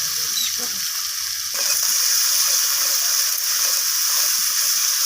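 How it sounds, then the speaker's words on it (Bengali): Coriander leaves sautéing with spices in a pan for a fish curry sizzle loudly and steadily up close, the hiss swelling after a brief stir and continuing evenly. "ধনিয়া পাতাটা দিয়ে মশলার সাথে আমি একটু কষিয়ে নেবো"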